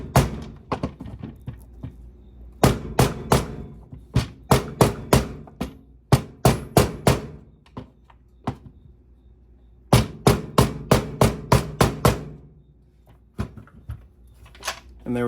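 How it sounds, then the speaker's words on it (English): A mallet taps a 32 mm socket to seat a Gen 2 Raptor valve cover seal, loud sharp close knocks in quick bursts of several strikes separated by brief pauses. "all I'm doing is just taking the mallet and tapping it in"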